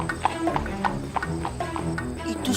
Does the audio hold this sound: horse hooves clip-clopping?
yes